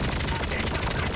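Rapid automatic gunfire from a video game rattles in one dense, loud, unbroken burst, about half a magazine emptied in quick succession.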